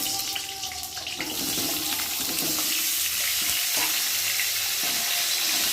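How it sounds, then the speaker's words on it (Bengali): Cut potatoes frying in a pan with tempering spices, giving a steady broadband sizzle with faint stirring clatter, close and fairly loud with no talking. "আর এখন এই যে কেটে রাখা আলুগুলোকে দিয়ে আবার ভালো করে ভেজে নেব আলুগুলোকে।"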